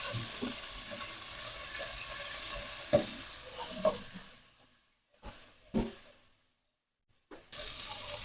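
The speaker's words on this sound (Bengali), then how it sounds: "মাছগুলো এখন আমি ভাইজা নিব" Poa fish frying in hot oil in a pan on a stove, a quiet steady sizzle broken by a few sharp clatters, then dropping to near silence with brief scraping bursts before the sizzle returns.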